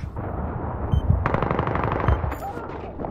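Rapid bursts of machine gun fire in the video game Battlefield 3 multiplayer, loud and rattling with dense repeated shots over a noisy battle background.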